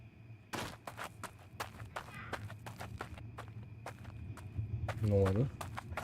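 Close footsteps in the horror video game Blood West, a handful of distinct thudding steps with an uneven rhythm against a low ambient hum. No one speaks.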